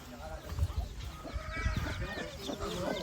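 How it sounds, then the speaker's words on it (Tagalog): Backyard chickens in a rural province cluck nearby, making faint, scattered calls against low rumbling background noise and some indistinct voices. "Ay, mga alaga namin manok."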